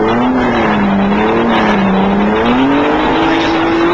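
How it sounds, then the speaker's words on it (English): Touring race cars at the 1985 Australian Touring Car Championship round at Lakeside near Brisbane roar off the line at the start, a loud steady engine drone rising in pitch under an excited commentator's voice. "They're off and racing."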